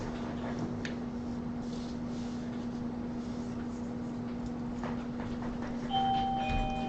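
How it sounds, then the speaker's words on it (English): Over a steady electrical hum, a two-tone doorbell chime rings once near the end, clear but not very loud. "Yo, who keeps ringing the doorbell?"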